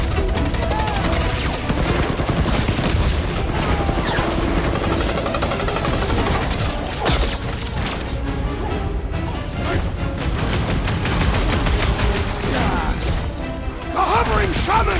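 Combat gunfire from a rifle in the Guardians of the Galaxy video game, rapid dense shots and crashes mixed into a loud, busy battle soundtrack with voices calling out throughout.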